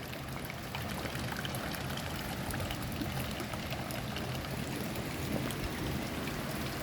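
Steady rush of water pouring and splashing into a drinking fountain trough in Grandvillard, Switzerland, a dense even wash of sound with no voices.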